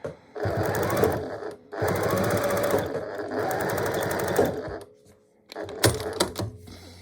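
A sewing machine stitches a square pot holder, the presser foot guided along the edge, running in three close, steady bursts of rapid needle clatter with brief pauses between, ending in a few quieter clicks and handling sounds.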